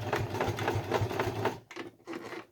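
A sewing machine runs zigzag stitches along a fabric oven mitt, a steady rhythmic chatter of needle strokes that pauses and restarts briefly near the end, close and alone with no talk.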